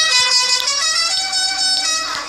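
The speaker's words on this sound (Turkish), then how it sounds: "Kamyon sesi arkadaşlar bu." A truck's loud, sustained air horn blares continuously with a rich, brassy tone, close up and with no voices.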